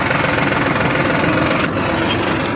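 A tractor engine runs on a village farm road, a loud, steady chugging drone with a knocking low rumble that holds close and constant throughout.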